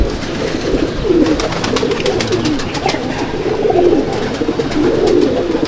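Pigeons in a loft coo in repeated low, rolling phrases, loud and close, several birds overlapping steadily with no talking.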